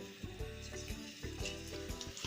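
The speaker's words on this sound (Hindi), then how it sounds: "ऑयल में मैं अंडे फ्राई कर लूंगी।" Boiled eggs frying in oil in a pan, a quiet close sizzle with soft popping and a few stirring bumps, no voices.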